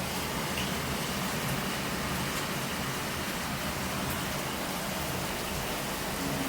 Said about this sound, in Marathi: पाऊस सुरू झाला, मस्त दनादनवाला पाऊस सुरू झाला